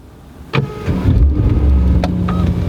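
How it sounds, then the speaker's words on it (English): A Mercedes-AMG E63 S engine starts with a push-button start, a sharp click and whir of the starter followed by a deep, rumbling catch that settles into a loud, steady low idle close by. "To start the car, there's start-stop engine."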